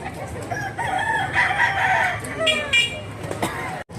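A large Tasmanian-bloodline gamecock crows loudly nearby with drawn-out calls, alongside clucking from other fowl and background voices.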